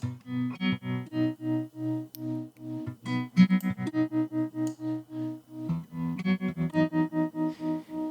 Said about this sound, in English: if we reduce the decay, for example, we can get a more slowly shifting sound, like so.